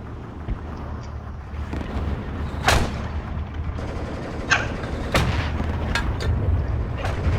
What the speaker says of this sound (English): Mortars are going in against these infantry.